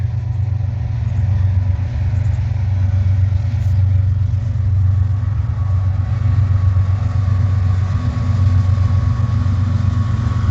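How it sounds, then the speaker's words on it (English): A freight train rolls through the Abbeville depot with a heavy, steady low engine rumble and drone that holds constant and close for the whole stretch, with no voices. "I'm walking down to a depot and the train's coming through"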